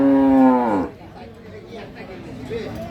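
A dairy cow at a cattle market moos once, loud and close, a long drawn-out low call lasting nearly a second, followed by murmuring crowd chatter and voices.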